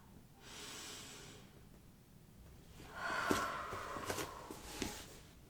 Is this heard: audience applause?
no